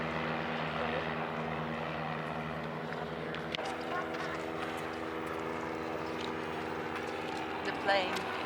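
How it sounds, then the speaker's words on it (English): A propeller plane drones overhead near the water in Florida, a steady, moderate hum that sits behind people chatting nearby. "The plane."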